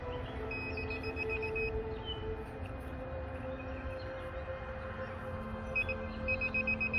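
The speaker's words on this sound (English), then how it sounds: "the more it beeps, the closer you are to the item" Junior metal detector beeping over a buried item during a treasure hunt, steady repeated electronic tones under a constant droning background, with the beeps growing busier toward the end.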